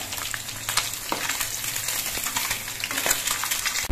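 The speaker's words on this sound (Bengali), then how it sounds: "মাঝারিভাবে মাছগুলো ভেজে নিয়ে আমি নামিয়ে নিচ্ছি" Katla fish fries in oil in a wok, a dense, steady close sizzle with scattered crackles and occasional utensil taps, no speech.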